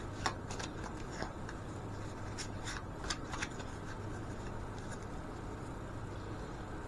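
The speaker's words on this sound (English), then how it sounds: "Shuffle them really good." Tarot cards being shuffled by hand, faint soft riffling and sharp flicks in short bursts over a quiet low hum, close and quiet without any talk.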